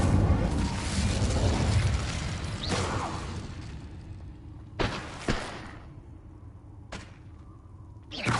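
Incendio fire spell cast in Hogwarts Legacy: a burst of roaring flame that fades over a few seconds, followed by several sharp, separate magical blasts with quiet gaps between them.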